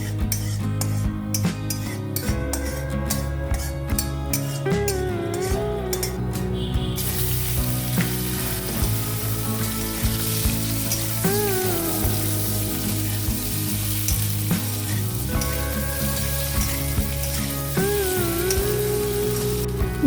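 Boiled, cut potatoes fry and sizzle steadily in hot spiced oil tempered with asafoetida, for a Bengali potato curry. The sizzle runs throughout at moderate loudness, with occasional utensil clinks and background music.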